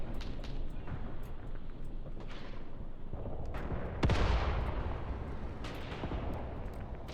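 Gunfire on a Red Army retreat battlefield in the wargame Graviteam Tactics, scattered distant shots and one heavier, louder blast midway over a steady, rumbling battle ambience, with no talking.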